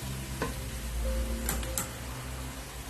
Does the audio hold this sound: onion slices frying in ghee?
yes